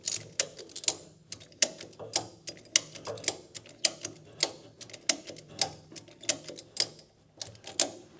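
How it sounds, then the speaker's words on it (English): Ratchet strap being tightened on a John Deere X590 snow blower belt pulley, giving a steady series of sharp, close clicks in an even rhythm, each stroke a quick double tick, with no voices. "So now we're going to continue to tighten the ratchet strap."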